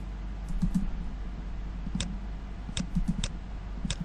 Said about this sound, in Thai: ก็คือการเคาะลงไปที่คีย์บอร์ดตรง ๆ